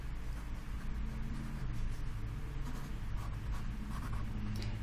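A picture being drawn by hand, a soft continuous scratching of the drawing tool on the surface, steady and close under a low hum, with no talking.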